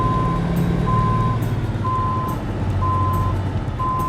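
A semi truck backing up with a trailer sounds its reverse alarm, a steady run of evenly spaced high beeps over a constant low diesel rumble.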